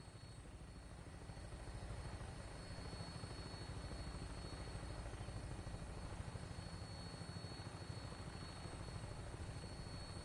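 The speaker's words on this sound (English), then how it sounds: "Tinker's gonna keep the vertibird spooled for an immediate takeoff" A Fallout 4 vertibird aircraft flies with a steady rotor drone, a constant chopping hum that stays even and moderately loud throughout with no voices.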